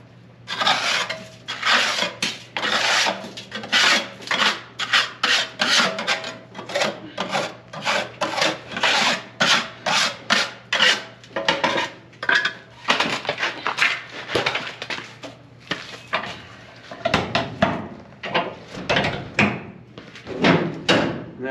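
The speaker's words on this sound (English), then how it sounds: "But I'll take this and I'll scrape out as much as I can get from there" A scraper rasps fly ash out of the combustion chamber of a HeatMaster G10000 boiler in steady, repeated close scraping strokes, loud and gritty, continuing without talk.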